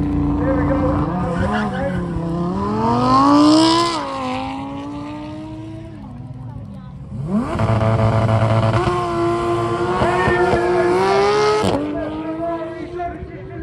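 A 12-cylinder front-engined hypercar lapping a track at a supercar festival, its engine note sweeping up and down through gears for several seconds, rising again with tire squeal under faint crowd noise.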